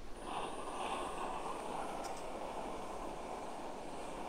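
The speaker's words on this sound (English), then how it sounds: "Oh, sounds like that gas is running out." A camping gas stove burner roaring steadily as its gas runs low, a close, continuous breathy hiss and rumble lasting throughout, with no voices.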